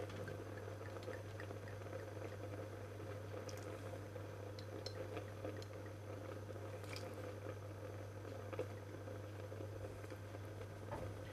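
Beef and carrots being stirred in a pan with soft brown sugar and Chinese rice wine, giving a steady soft squishing, sizzling wet texture with faint scraping clicks throughout, no talking.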